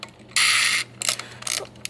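Shutter mechanism of a toy-grade plastic Robot 3 camera clicking, with a sharp buzzing mechanical snap followed by several fainter ratcheting clicks, close up and alone.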